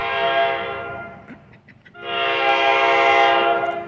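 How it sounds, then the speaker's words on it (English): A New Jersey Transit train sounds a loud, sustained horn in two long blasts separated by a short gap, heard up close as it passes. "Oh, that horn show sucked."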